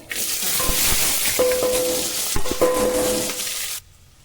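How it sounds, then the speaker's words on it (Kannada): Garlic and onion frying in hot oil for a tempering, with curry leaves, cumin and mustard seeds already in: a loud, steady sizzle with scraping stirs and clinks, then an abrupt drop to quiet near the end. "ಬೆಳ್ಳುಳ್ಳಿ ಈರುಳ್ಳಿ ಒಗ್ಗರಣೆಗೆ"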